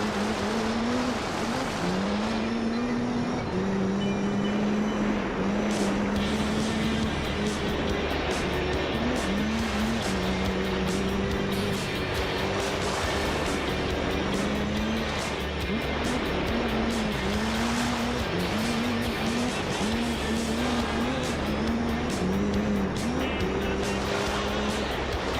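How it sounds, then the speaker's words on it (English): Engine roar of a rally car racing in Gran Turismo 3, revving and shifting continuously throughout, with tire noise and loud, steady, close-up game audio and no talking. "We're gonna let this bad boy do all of the rally racing for us"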